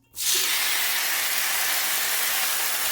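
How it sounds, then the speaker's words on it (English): Beefsteak hits a hot oiled skillet over medium-high heat and a loud, steady sizzle begins at once and continues without pause. "We can start frying our meat."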